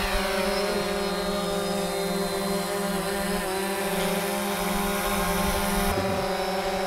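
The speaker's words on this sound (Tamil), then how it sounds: "இப்போ நான் வந்து என்ன பண்றேன்னா த்ராட்டில் அப் பண்றேன்" A small quadcopter drone's motors give a loud, continuous, high-pitched buzzing whine that holds steady and close throughout, with a slight pitch shift near the end.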